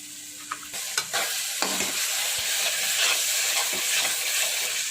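Ginger paste with chili powder and turmeric sizzling in a pan for egg curry, a continuous close frying hiss with a few scraping stir strokes near the start.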